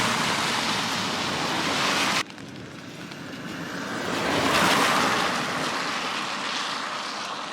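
Moderately heavy rain during a hike in Japan, a steady broadband hiss with traffic passing on a busy road. The sound drops abruptly partway through, then swells again as a vehicle rushes by nearby.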